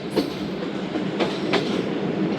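The Karachi Express rolls through Yusufwala railway station, heard from on board as a loud, continuous rumble with rhythmic clickety-clack of wheels over rail joints, without speech.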